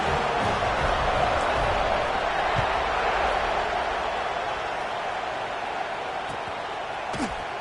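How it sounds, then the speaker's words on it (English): Dense, steady crowd roar fills a football stadium after a score, a loud continuous murmur of many voices with no break, before a kickoff in a USC game. "this crowd is buzzing after that last score"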